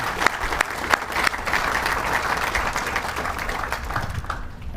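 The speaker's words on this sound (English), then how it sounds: "Can you please join me in a round of applause for them?" A crowd at a military change of command ceremony at Fort Campbell gives a round of applause, with sustained clapping from many hands and a few sharp individual claps standing out near the start.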